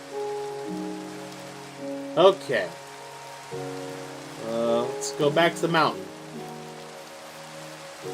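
Steady rain falls throughout in the video game Minecraft, a soft even hiss under tonal game music, while someone talks briefly over it.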